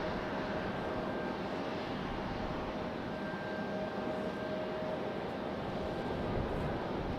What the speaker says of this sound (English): Got a little Exec jet moving.